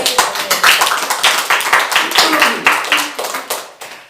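A church congregation claps in a strong, fairly even rhythm, sharp hand claps repeating close and loud for several seconds before easing slightly at the end.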